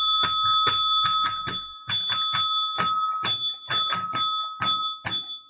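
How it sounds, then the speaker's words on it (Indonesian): A bright metallic bell, like a bicycle bell, is struck about fifteen times in quick pairs and single strikes, loud and close, each ring decaying briefly before the next, with no talking. "Lonceng."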